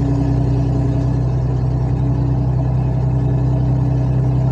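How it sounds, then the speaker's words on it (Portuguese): Truck engine running steadily on a highway, with a loud, droning exhaust from a damaged exhaust coil, a constant low hum and rumble that holds at the same level throughout. "agora tem que arrumar essa serpentina aí do escapamento pra ir parar com essa barulheira aí"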